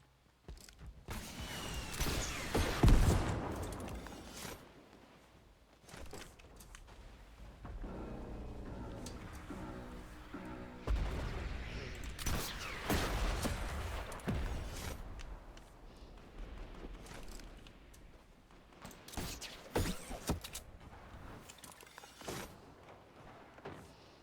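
Gunfire in the Fortnite video game, a busy stretch of in-game shots, impacts and clatter, with louder bursts near the start and around the middle over steady game noise.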